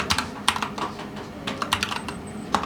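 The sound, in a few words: typing code on a computer keyboard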